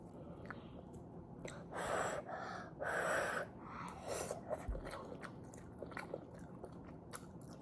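Close, intimate sounds of someone eating ramen noodles: bursts of slurping and chewing, with soft crunchy bites and breaths between them. No talk.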